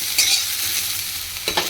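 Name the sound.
cauliflower pieces frying in oil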